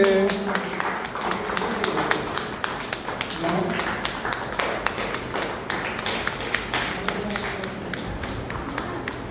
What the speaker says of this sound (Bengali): জোরে হাততালি, জোরে হাততালি, হাততালিটা ঝিমিয়ে যাচ্ছে।